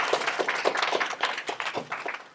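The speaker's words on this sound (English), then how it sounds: "Where's the round of applause for Zipporah?" A small audience applauds for Zipporah, with steady, moderately loud hand clapping from a handful of people that is fairly close and continues evenly throughout.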